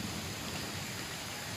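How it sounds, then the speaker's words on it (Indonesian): Steady light rain drizzles down after a strong windstorm that uprooted trees in a village, making a continuous soft hiss that fills the whole moment with no voices. "dan sini masih gerimis ini keadaannya"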